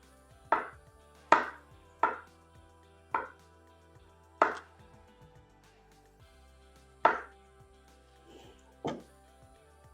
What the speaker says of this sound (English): And again, I'm gonna slice my kiwi.